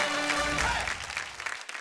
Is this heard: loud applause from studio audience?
yes